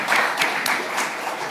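Loud, dense applause from a church congregation clapping for the choir during a Sunday worship service, many hands clapping steadily and close in a reverberant sanctuary.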